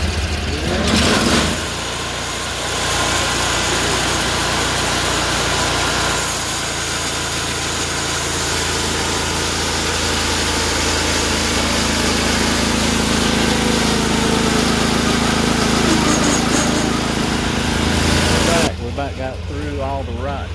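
A Mechmaxx SM-36 sawmill slabs a 13-foot cherry log, producing a loud, steady engine drone with cutting noise that runs almost unbroken before cutting off abruptly near the end.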